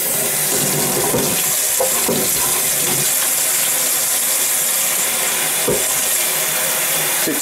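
Water gushes steadily from a tap into a watering can, a constant close splashing rush with a few brief knocks, used to fill a motorhome's fresh water tank.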